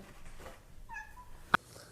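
A held cat lets out a single short, fairly faint meow with a clear tonal pitch, followed by a sharp click, over a quiet room.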